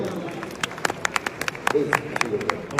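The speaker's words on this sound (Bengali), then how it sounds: "আবারও জোরে একটা হাততালি" Scattered applause for an award winner, a small group of distinct hand claps in an irregular rhythm, fairly close, with voices and room chatter underneath.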